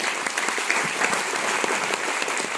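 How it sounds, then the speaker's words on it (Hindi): An audience at a youth empowerment talk gives loud, sustained applause, dense rapid clapping filling the hall with no voices over it. "एक बार जोरदार ताली हो जाएगी।"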